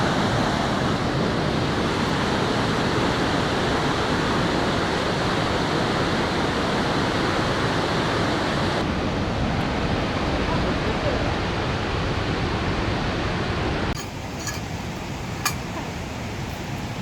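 A Norwegian waterfall by the fjords, kept for scenery and tourism rather than power generation, roars as a steady, loud broadband rush of falling water throughout, dropping slightly in level near the end.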